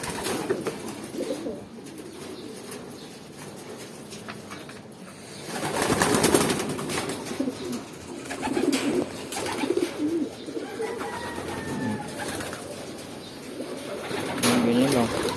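Pigeons coo softly and repeatedly while being fed outdoors, low throaty calls rising and falling over a light background, with someone talking intermittently between the coos.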